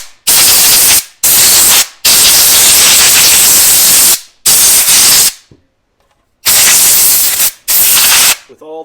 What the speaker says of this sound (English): you can just use a little air tool like this, which does the whole job in seconds, even gets right down into the screw holes